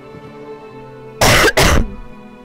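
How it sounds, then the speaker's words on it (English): A man coughs in two harsh, close bursts, a loud broadband rasp over a faint steady background hum while playing the horror game The Last Door; he is still a little ill. "Sorry for coughing."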